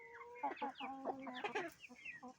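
Young roosters cluck close by in a quick, busy run of short calls and chatter, moderately loud over a quiet background.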